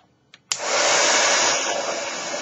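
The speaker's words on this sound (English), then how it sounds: "I'm going to take my heat gun" Heat gun switched on for melting embossing powder on a handmade card, a short click then a steady loud rushing blast of hot air that holds on alone.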